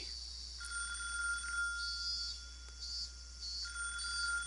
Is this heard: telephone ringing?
yes